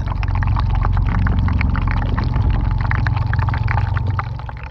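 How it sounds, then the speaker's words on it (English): Icebergs fracturing as compressed air bubbles inside expand, heard as a steady dense crackle of tiny pops and clicks over a low watery rumble, continuous and fairly close. "you can literally hear the cracking and popping sound of icebergs fracturing as the compressed air"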